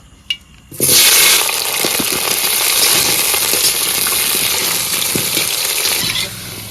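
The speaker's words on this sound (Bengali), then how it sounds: "সর্ষের তেল আলুটাকে ভেজে নেব" Potatoes dropped into hot mustard oil, with a loud burst of sizzling that then settles into a steady, close frying hiss, with no voices.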